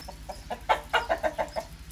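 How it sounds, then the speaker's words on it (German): Chickens cluck nearby in a quick run of short, soft notes over a faint background hiss, sheltering under a roof during rain. "Guckt mal, wie beim Regen die Hühner alle unterm Dach chillen."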